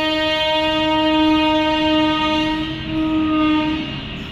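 A train passes a railway level crossing with its horn blaring loud and close in a long sustained tone, the heavy rumble of the rail cars underneath and no talking.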